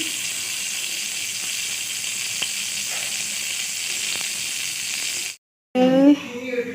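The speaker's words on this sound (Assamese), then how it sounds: "তেল দি দিছোঁ তেলকণ গৰম হোৱাৰ পিছত আদা নহৰু দি লৈছোঁ" A loud, continuous sizzle of ginger and garlic frying in hot oil in a wok, then a brief silence and a voice starting to talk.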